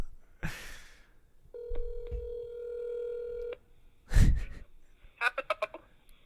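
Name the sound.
telephone dialing and ringing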